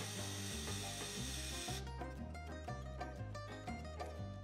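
A screwdriver scrapes and ratchets rhythmically while unscrewing screws from an original Xbox console case, close and faint, a steady series of gritty turning rasps with no talking.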